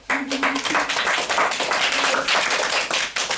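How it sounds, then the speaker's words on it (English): Brisk clapping from a small group at a Toastmasters-style club meeting honoring the day's prepared-speech winner, fairly close and continuous, with a short voice fragment mixed in. "Let's clap him."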